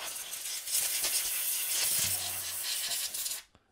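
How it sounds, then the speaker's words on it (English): Compressed air blasts flux off a circuit board from a 1986-89 Corvette C68 HVAC programmer, a steady close hiss lasting a few seconds before stopping abruptly. "Just to speed things up, we're going to use some compressed air."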